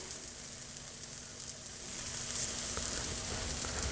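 Eggplant and tofu pieces fry in a pan with a steady, fairly soft sizzle that grows a little fuller partway through. There is no talking.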